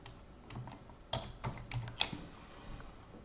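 Text being typed on a computer keyboard: a handful of quiet, separate key clicks spaced irregularly over a few seconds, close to the mic, with no talking.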